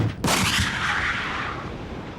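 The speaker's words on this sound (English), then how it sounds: "Bar shot was designed to spin in flight, slicing through a wider area than round shot." A cannon fires bar shot in a test, giving one sudden, very loud blast right after a quiet moment. The boom then rumbles and decays slowly through the rest of the moment.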